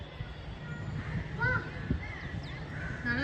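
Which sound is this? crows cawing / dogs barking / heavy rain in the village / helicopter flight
crows cawing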